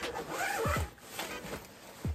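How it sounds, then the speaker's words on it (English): A zipper on a down jacket is pulled open in a few quick rasping strokes, close and fairly quiet, with brief fabric rustle between pulls. "Oh, I didn't unzip it fully."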